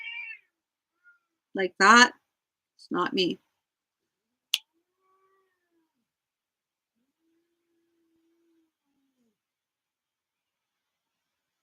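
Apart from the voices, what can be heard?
cats meowing and hissing in a cat fight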